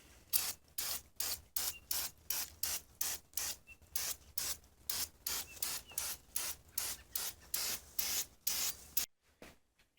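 Brake cleaner sprayed onto an old rusty vise in rapid repeated bursts, about twenty short hissing blasts in a regular rhythm, close and crisp, stopping just before the end.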